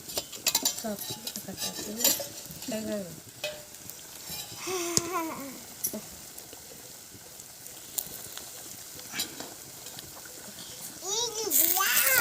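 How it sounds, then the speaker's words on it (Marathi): Wild banana greens are tipped into a pan of roasted whole spices and stirred, with metal utensil scrapes and clinks, light sizzling, and a voice talking in the background. "आता आपण केळीची भाजी त्याच्यात टाकूया."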